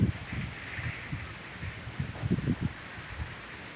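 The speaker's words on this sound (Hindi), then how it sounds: "इस साइड भी जो है ना आ गई है सही तेज़ बारिश।" Heavy rain pours down with a broadband hiss, wind gusting through it and a few low thumps, no voices.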